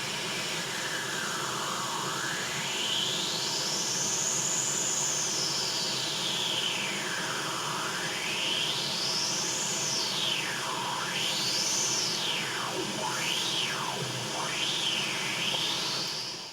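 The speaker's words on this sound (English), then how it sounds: "Almost sounds like, like a filter effect, or almost like a wah-wah." A narrow EQ boost near 3 kHz sweeping up and down across a steady broadband hiss, giving a loud, continuous filter-like wah that speeds up into quicker swoops toward the end.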